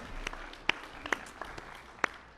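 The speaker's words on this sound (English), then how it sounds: "Can we give them all a round of applause?" Sparse, faint clapping from a church congregation during a sermon, a handful of separate sharp claps scattered over a low room hum rather than a full ovation.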